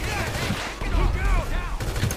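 Gunfire in the GTA Online video game cracks out as a rapid run of overlapping shots with a noisy, dense background.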